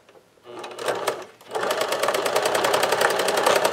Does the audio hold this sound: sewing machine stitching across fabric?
yes